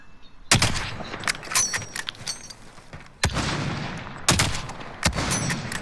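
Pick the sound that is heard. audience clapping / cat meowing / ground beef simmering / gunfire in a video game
gunfire in a video game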